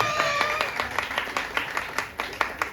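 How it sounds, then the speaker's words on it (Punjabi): A crowd claps hands at a Teej celebration, a dense run of quick, close slaps with a brief hush just after the start before the applause swells steadily. "ਤਾੜੀਆਂ ਮਾਰ ਦਿਓ"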